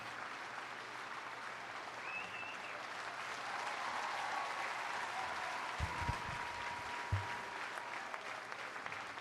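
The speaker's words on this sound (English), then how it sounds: "The crowd goes wild." Stadium crowd noise in the Madden 26 football video game rises as a steady, broad roar of cheering and applause, with a few louder thumps partway through and no clear talk over it.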